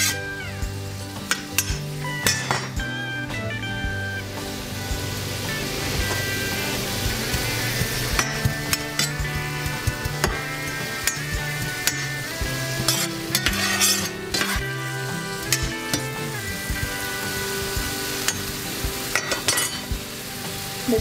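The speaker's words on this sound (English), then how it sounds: "I'm going to add my peppers and onions and let them just saute a little bit." Peppers and onions sizzle as they sauté in a pan, a steady frying hiss broken by frequent clinks and scrapes of a utensil stirring against the pan, close and without talk.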